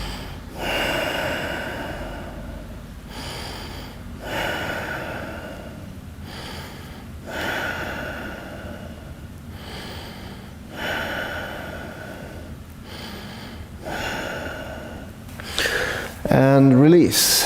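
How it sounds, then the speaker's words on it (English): Slow, deep yoga breaths taken while holding a shoulder stretch, audible as a steady rhythm of about five long, close, breathy inhales and exhales, with a louder rustle near the end. "take 5 breaths here."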